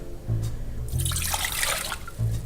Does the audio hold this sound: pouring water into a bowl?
yes